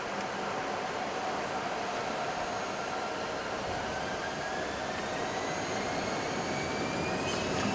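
Embraer 175 jet engines roar through a takeoff roll at New York LaGuardia, heard from the cockpit as a loud, constant broadband rush with thin whining tones that climb steadily in pitch.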